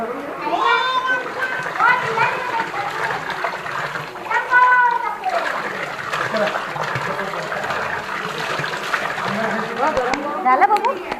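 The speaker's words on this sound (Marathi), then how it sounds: "तर जे तीन कुंड आहेत मेन बेसिकली तिथून पाणी वाहतं" Water steadily flows and trickles from the hot spring tanks at the Vajreshwari temple, a soft, even rush running beneath someone talking throughout.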